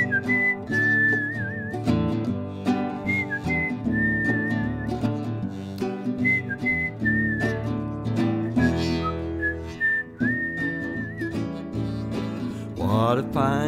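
A person whistles a cheerful melody over guitar accompaniment, clear sustained whistled phrases recurring at intervals across a steady, rhythmic strummed backing, close and prominent.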